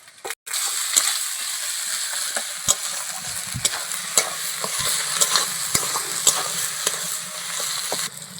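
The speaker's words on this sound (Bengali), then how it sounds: "এবার আমি রসুন বাটা আদা বাটাটা দিয়ে দেবো" Onions fry in a pan with garlic and ginger paste for a chicken curry, giving a steady sizzle with the scrape and clatter of stirring throughout, close and fairly loud.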